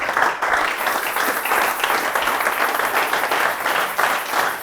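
A church congregation applauding and cheering during a sermon, a dense, loud, steady wash of clapping and voices that carries on without a break.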